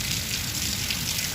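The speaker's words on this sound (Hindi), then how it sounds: "बहुत तेज़ बारिश आ रही है, पूरी रात से आने लगी है" Dense, steady hiss of heavy rain pouring down continuously on a village, loud and close, with no voices.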